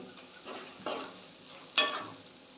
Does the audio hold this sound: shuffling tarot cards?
no